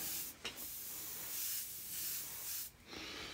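A vintage Paasche airbrush sprays with a soft, breathy hiss that rises and falls in several short bursts with brief gaps between them, fairly faint and close, with no voices.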